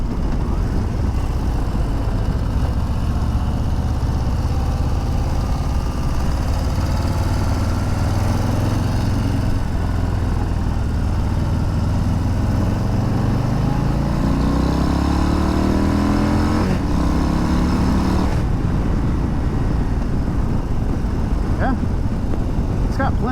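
A Harley-Davidson Low Rider ST ridden on the road, its engine rumbling loud and steady as it pulls up through rising revs before a gear change, heavy wind noise throughout and a rider talking over it.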